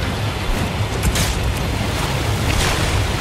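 Ocean waves in the video game Resident Evil 4 Remake, a continuous loud rushing wash of surf and wind with no talk.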